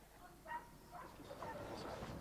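Military working dog in a UK forces training session, giving short yips and barks amid a handler's encouraging shouts and scuffling, close and lively throughout.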